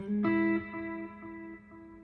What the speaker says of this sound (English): you can hear from that reverb that that's our old friend, the reverberation machine